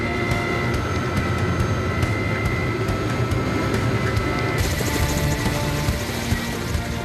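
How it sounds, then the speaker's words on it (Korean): A helicopter flies low over a chestnut-tree mountain forest spraying pesticide, a loud steady rotor and engine roar that fills the air without pause, with no voices. "헬기가 본격적으로 밤나무 위를 닿을 듯 말 듯 저공 비행하기 시작한다"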